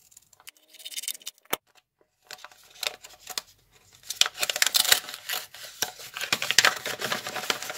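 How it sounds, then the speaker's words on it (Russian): Scissors snip and slice through paper packaging at close range, with scattered crisp cuts and rustling at first, then a denser run of rapid snips and crinkling paper toward the end. "Я предлагаю это сделать ножницами."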